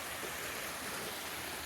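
A creek running along the bottom of a wooded ridge valley gives a steady, close, unbroken rushing wash of water with no voices.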